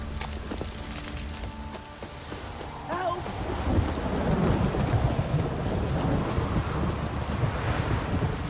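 Heavy rain pours steadily while low thunder rumbles in the video game The Witcher 3: Wild Hunt, building louder after a brief tonal chime at the start; no talking.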